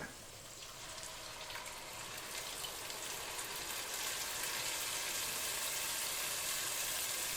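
Steady, crackling sizzle of onion and garlic frying in a pan, a soft hiss that grows slightly louder over time with no voices.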